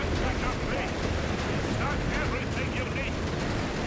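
A Nebelwerfer rocket barrage in Company of Heroes 3 rumbles through a dense, continuous wash of explosions and gunfire in a World War II battle, heard under a caster talking throughout.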